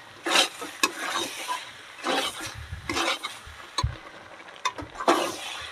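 Peas being stirred and fried with potato and spices in a pan for mutton ghugni, scraping spoon strokes and clinks against the pot in an irregular rhythm over a soft sizzle, close by.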